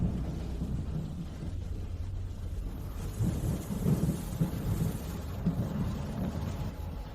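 Steady rain falls during a storm, a continuous hissing wash with low rumbles of thunder rolling underneath, fairly loud and unbroken with no voices.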